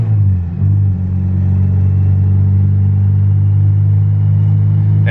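Turbocharged Honda Civic EG hatchback with a stock LS VTEC engine cruising on a dyno, a loud, steady low engine drone held at constant speed with a brief dip near the start.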